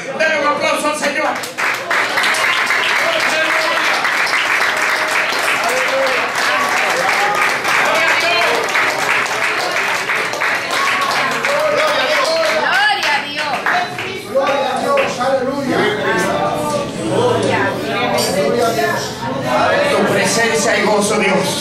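An evangelical church congregation applauds during a sermon, sustained loud clapping and cheering that fills the room, joined by voices and shouts partway through and continuing to the end.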